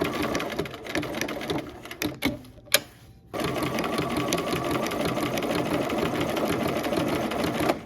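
A sewing machine stitches applique on a pink flower in fast, steady bursts, with a short pause and a few clicks before it runs on continuously, close and loud.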